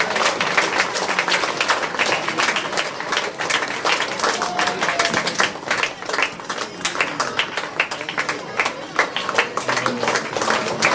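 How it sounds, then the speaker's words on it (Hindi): Audience applause at a retirement honour ceremony, sustained clapping from a gathered crowd with sharp, distinct hand claps standing out, continuous and fairly close for the whole stretch. "जोरदार तालियां सर के लिए"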